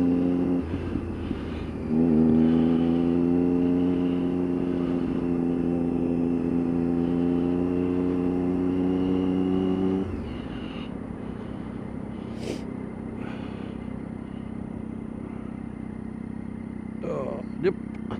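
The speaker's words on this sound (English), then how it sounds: "I just want you guys to appreciate a nice bike, a nice sound" A motorcycle engine revs loudly in a tunnel, rising in a sustained, reverberant roar for several seconds before dropping back to a lower hum, with a person talking at the start and around it.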